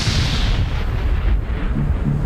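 A deep, sustained rumbling roar of a fuel-fed aircraft fire explosion heard from a distance, with heavy low-end energy rolling on steadily throughout.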